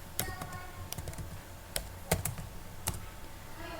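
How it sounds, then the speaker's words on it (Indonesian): A computer keyboard is typed on in short, irregular bursts of crisp keystrokes, fairly close and quiet, while a friend type value is entered during extension and dial plan setup, with no talking. "Lalu kita ketik type"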